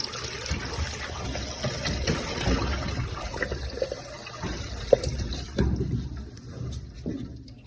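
Water gushes from a loose appliance hose during a dishwasher repair, a steady splashing, pouring rush with some clatter and thumps, fairly close, easing toward the end.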